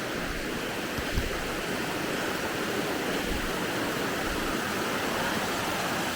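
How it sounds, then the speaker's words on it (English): A waterfall in Cherokee, North Carolina on a fall day pours in a steady, full rushing roar, continuous and even throughout with no voices. "I'll just listen to the sound for a couple of seconds here of the water falling."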